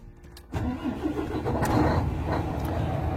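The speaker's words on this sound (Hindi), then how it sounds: "गाड़ी यहाँ पे जो है ना स्टार्ट हो चुकी है।" A truck engine cranks and catches after a short quiet moment, then settles into a steady rumbling idle inside the cab, loud and close with no talking.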